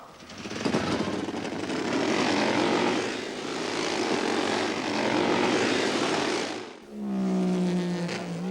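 Norton Manx racing motorcycle engine running, a loud sustained roaring drone that swells and eases, then changes to a lower revving note after a brief dip.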